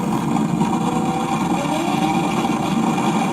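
A Toyota Supra's engine hums steadily on a street near 101 North, a continuous, fairly loud drone with no clear revving or pass-by.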